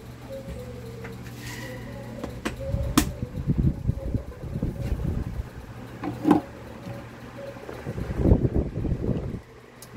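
A Mondial electric fan starts running after being switched on, with a quiet steady hum and intermittent rattling and clicking handling noises, no talking.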